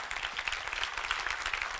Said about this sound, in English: Because I think we should give him applause.